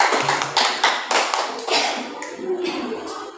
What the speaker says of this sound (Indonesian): Tepuk tangan untuk Gang Astin lagi.